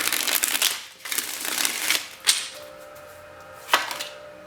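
A tarot deck being shuffled by hand: close, dry riffling and papery rustling in several bursts with a few sharper snaps between them, and no voices.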